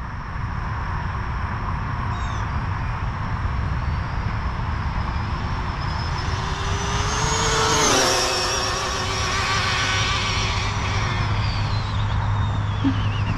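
An Arrma Limitless RC car on a speed run gives a steady high electric motor whine that swells as it races past, its pitch dropping sharply at the pass, over constant loud roar and rushing noise.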